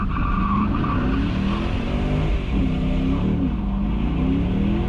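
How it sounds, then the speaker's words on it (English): A 2012 Chevrolet Camaro SS spinning donuts in Mexico, its engine roaring continuously while the tires squeal and skid in long wavering screeches, loud and close throughout with no talk. "all my parts cars end up doing donuts."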